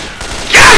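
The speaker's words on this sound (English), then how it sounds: "I'm opening fire on this." Gunfire in the zombie shooter Left 4 Dead 2, heard as a short loud crash of shots that bursts in near the end after quieter game noise.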